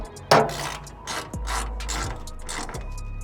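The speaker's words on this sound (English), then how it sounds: "now you can go ahead and just tighten up your button heads with your 3/16" A 3/16 hex tool tightens button head bolts on a van roof box mounting kit, giving a few close mechanical clicks and a ratcheting scrape over a low background hum.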